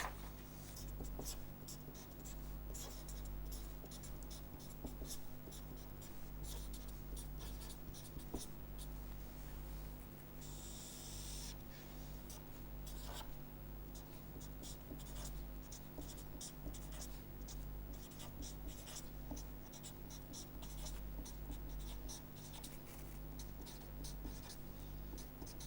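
Steady scratching of chalk or marker on a board as a lecturer draws a diagram during a signal-processing lecture, continuous strokes with short pauses over a low room hum, no speech.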